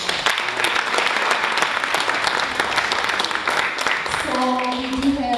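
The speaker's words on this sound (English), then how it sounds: "So can we clap for them?" An audience at a Johannesburg teacher awards ceremony claps for the adjudicators, with steady, dense applause that holds throughout, and a few sustained tones enter near the end.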